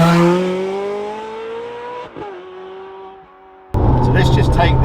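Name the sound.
Ferrari 430 Scuderia engine revving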